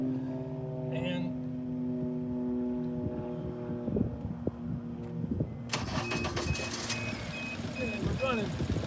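A car engine cranks and catches partway through, then settles into a steady, rumbling idle with a low continuous drone up close.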